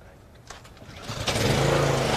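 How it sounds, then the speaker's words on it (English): A pressure washer starts up at an outdoor car wash, its motor catching about halfway through and settling into a loud, steady engine-like drone that continues to the end. "So it's time to turn on the pressure washer."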